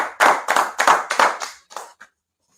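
Rhythmic group clapping at a meeting of the ISUPK, about six loud, evenly spaced unison claps that slow and fade, ending with a lone softer clap, then silence.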